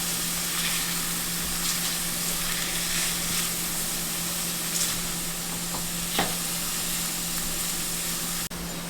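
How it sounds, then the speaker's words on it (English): Onions and garlic sautéing over medium heat in a pan for a stew of peas with coconut milk, giving a steady, close, even sizzle with occasional light stirring clicks and no talk. "We'll saute the onions and garlic until they are soft."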